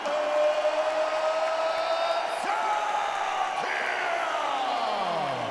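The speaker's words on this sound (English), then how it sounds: "Listen to that crowd" A fight crowd roars and cheers in an arena right after a first-round TKO stoppage, a steady loud wash of voices sustained throughout, with a sharper swell and whoops partway through.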